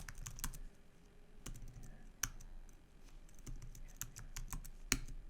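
Quick clicks and clacks of a computer keyboard as a command is typed, irregular bursts of keystrokes with a few sharper taps, close and fairly quiet with no talking.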